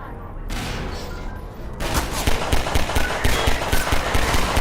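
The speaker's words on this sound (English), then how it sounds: "Because they can shoot through the grates, the metal grates." Gunfire in the video game Half-Life 2 breaks out as rapid, loud automatic bursts after a short lull, a dense stream of sharp shots that rattles on continuously.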